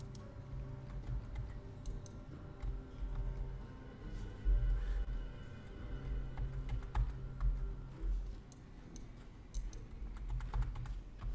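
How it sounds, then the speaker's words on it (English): Steady, rapid clicking of keys on a stuck computer keyboard carries on for the whole stretch. The taps are faint and close, with a low hum underneath and no voices. "It is my keyboard that's doing that, so it is not the game."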